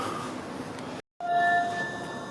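Airport express train in Toronto rumbling along, a steady interior rail drone broken by a brief cut, then a thin squeal over the running noise.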